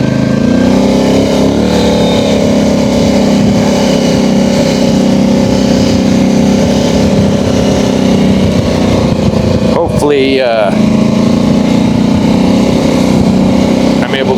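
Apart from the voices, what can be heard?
boat engine noise, 850 high output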